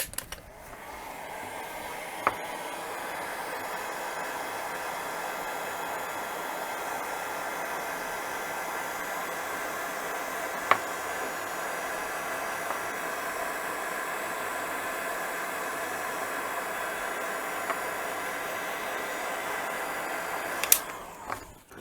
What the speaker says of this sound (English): you just need a heat gun to heat the heat shrink down